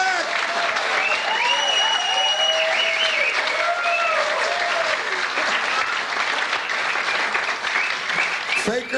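Audience applause at a live stand-up comedy show, a dense, sustained wash of clapping from a large crowd that carries on for several seconds, with a few cheers and whistles mixed in before it tapers off near the end.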